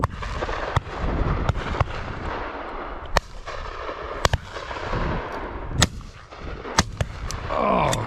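Sharp shotgun reports ring out at a driven pheasant and partridge shoot in freezing conditions, about eight distinct shots spaced irregularly, some near and loud, others more distant, with a steady outdoor background between them.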